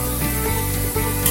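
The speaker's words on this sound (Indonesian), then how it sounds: "boleh kita aduk-aduk seperti ini. Aduk secara perlahan." Egg-coated peanuts frying in a large batch of hot oil sizzle loudly and continuously while being stirred slowly, with soft scraping movements breaking through the steady crackle.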